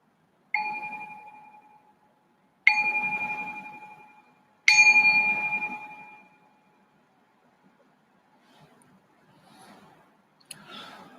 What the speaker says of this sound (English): Just ring the bell to signal the start of the meditation.